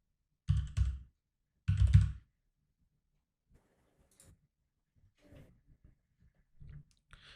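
Two short bursts of keyboard typing in a quiet room, close and crisp, followed by a few faint scattered clicks.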